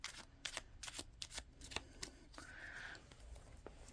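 A small Tarot of Mystical Moments deck is shuffled close by, quick papery slaps and riffles with a soft rubbing slide near the end, no talking.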